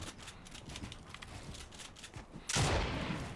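Gunfire in the Fortnite video game, a rapid burst of shots crackling in the background and then one loud, close blast that rings on for about a second at the end.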